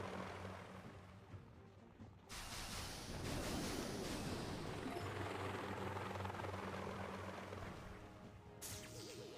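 A heavy chopper helicopter from the Boom Beach video game thrums loudly and continuously, its rotor roar swelling and holding steady for several seconds with no talking over it.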